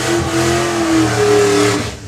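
A drag race car doing a burnout roars at high revs with a continuous loud, rough drone and tyre noise, sustained throughout before briefly easing.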